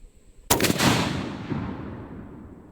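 A single loud gunshot cracks close by after a brief quiet moment, then a long echoing tail fades out over the next two seconds.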